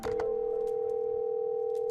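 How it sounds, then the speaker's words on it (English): Landline telephone in the horror dating game Sucker for Love: Crush Landing, picked up after a power outage, giving a loud, steady, unbroken dial tone that sustains alone. "I pick up my landline."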